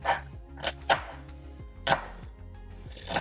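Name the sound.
chopping food into small pieces with a large-bladed mincing knife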